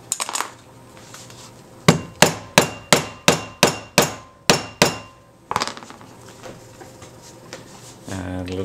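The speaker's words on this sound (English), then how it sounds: "then we'll tap it with the hammer to set it in permanently" A hammer taps sharply on a book board about a dozen times in a steady rhythm, setting an inset ribbon tie, pauses, then strikes once more before a brief voice speaks.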